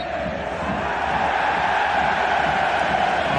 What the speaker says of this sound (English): Ironic applause